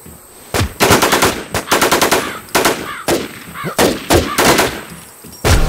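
Rapid automatic gunfire in the PvP shooter game Infestation Survivor Stories, coming in loud, close bursts of several shots each, separated by brief pauses.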